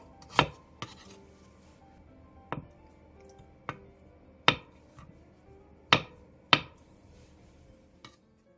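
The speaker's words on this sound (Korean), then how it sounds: "대파 4분의 1개와 청양고추 2개, 홍고추 반개를 어슷썰게 해주세요." A knife chops green onion, chili peppers, onion, potato and tofu on a cutting board, giving about eight sharp, separate thwacks at an uneven, unhurried pace, close and clear against a quiet kitchen.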